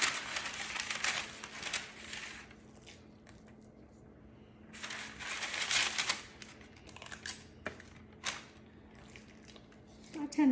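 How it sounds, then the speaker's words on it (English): An ice cream scoop portions pumpkin protein cookie dough onto a baking sheet with soft, sticky squishing and scraping sounds in bursts, quiet and close, separated by brief pauses. "Now I'm using my ice cream scoop because this gives me uniform size"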